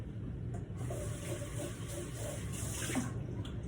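A measuring cup being rinsed under a running kitchen tap, a steady close gush of water splashing with small shifts as the cup moves, no talking.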